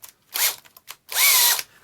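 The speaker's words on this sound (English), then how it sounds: "We're definitely going to drill through this layer" Black & Decker 14.4V cordless NiCad drill, run on a Milwaukee M18 battery, drilling through a layer of material in two bursts: a short whine, then a longer steady one with a rising-and-settling motor pitch, with brief clicks between them.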